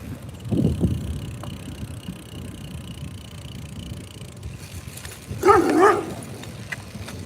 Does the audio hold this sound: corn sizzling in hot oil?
no